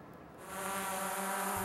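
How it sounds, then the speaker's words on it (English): A medicine delivery drone flies over rural Malawi, its steady insect-like buzz building and swelling to a loud, continuous drone like a swarm of bees, with no voices. "in rural Malawi, this is the sound of a drone delivering your medicine."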